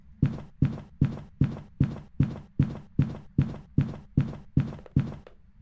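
Rapid footsteps of the fast twin ghost in Phasmophobia, twelve evenly spaced heavy thuds at a quick steady pace, loud and close with no talking.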